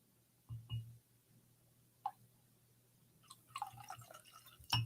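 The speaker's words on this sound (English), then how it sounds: "I'm just gonna pour a little bit more here." A drink poured from a freshly opened bottle: faint, scattered liquid drips and gurgles, with a couple of soft knocks before a denser run of pouring near the end.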